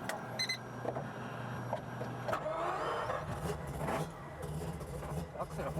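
A Nissan Fairlady Z S30 fitted with a four-rotor engine pulls away, its low engine drone rising and shifting beneath steady talking inside the car.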